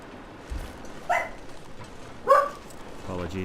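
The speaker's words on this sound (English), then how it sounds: "Apologies for the dog barking behind me." A whippet barks indoors in a few short, separate yips at mid-distance, with brief gaps between them, plus a low thump near the end.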